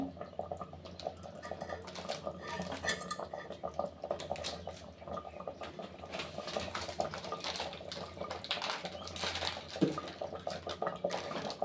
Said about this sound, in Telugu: చికెన్ మసాలా వేస్తున్నాను. ఒకసారి బాగా కలుపుకోవాలి.